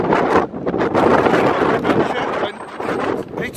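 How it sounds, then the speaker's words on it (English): Gusty wind roars across the microphone outside York Minster, a loud, steady rush of buffeting noise that swells and dips over a few seconds. "It's windy."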